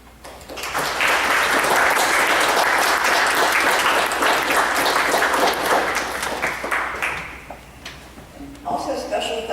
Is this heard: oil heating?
no